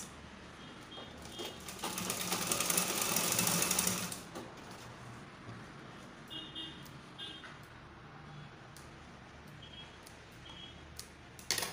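A sewing machine top-stitches a box pleat skirt, whirring loudly in a steady burst of about two seconds. Faint clicks and handling sounds follow in a quiet room.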